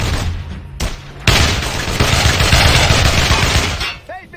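A squad opening fire together in the World War II shooter Brothers in Arms: Hell's Highway, with a dense, loud burst of machine-gun and rifle fire and heavy booms running continuously for several seconds before cutting off.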